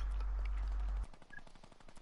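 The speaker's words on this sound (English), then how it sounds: "I hear gunshots this way." A rapid burst of machine-gun fire in Fortnite rattles for about a second, followed by fainter, scattered gunshots in the distance.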